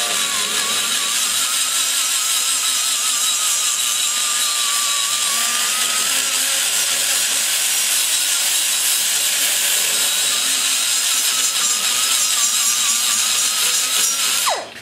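A grinding stone porting a Chevy LT-1 cylinder head gives a loud, continuous high-pitched whine with slight pitch wavers as the tool works, then spins down abruptly at the end; no speech.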